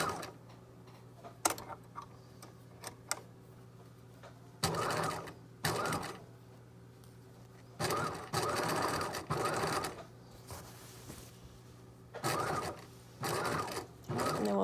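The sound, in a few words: sewing machine stitching the side seam of a yoke skirt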